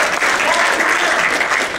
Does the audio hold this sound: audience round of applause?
yes